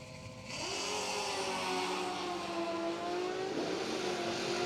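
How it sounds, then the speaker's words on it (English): At a drag strip, a ZX10 1000cc motorcycle and an '88 Mustang launch down side-by-side lanes. Engine noise surges suddenly and holds as a loud, steady high-revving roar with rising whine tones. "coming up here on the right lane, 596 on the dial for the ZX10 motorcycle. Left lane will be John Miller in the 88 Mustang."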